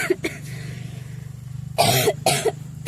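A person coughs in two sharp bursts close by, preceded by a faint earlier cough, over a low steady hum.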